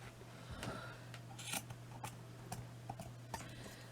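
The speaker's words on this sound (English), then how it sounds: "Now all I'm going to do here is to cut it and snip that there as well." Scissors snip through craft material for a wall plaque in a quiet room, a series of short, faint crisp cuts spaced irregularly, each a brief click-like snip over a low steady hum.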